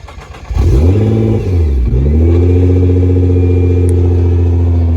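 A 2014 Nissan GT-R R35 Premium Edition with full bolt-on modifications revs hard up close, its engine climbing, dipping briefly, then settling into a loud, sustained, throaty drone.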